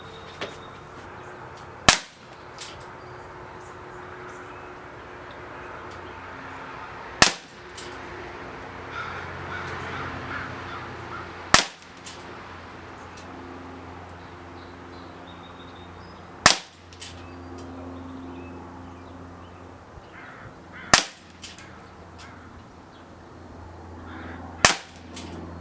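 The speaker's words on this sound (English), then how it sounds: "Let's find out how well this gun shoots. And again, we're going to be shooting from approximately 20 feet away in a free standing position." An Umarex Colt Government 1911 A1 nickel CO2 pellet pistol firing RWS pellets at about 20 feet, six sharp single pops spaced several seconds apart over steady outdoor background noise, with no talking.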